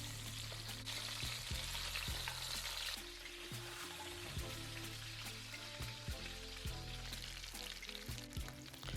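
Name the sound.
lamb shanks browning in a hot pot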